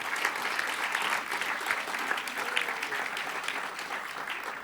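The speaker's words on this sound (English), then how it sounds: "A special round of applause for Jason" An audience at a gathering gives a warm, continuous round of applause, many hands clapping together at moderate level and holding steady for several seconds.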